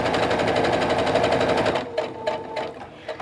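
Sewing machine stitching half-square-triangle quilt pieces together, running in a fast, steady close-up whir, then breaking into several short, separate bursts of stitching toward the end.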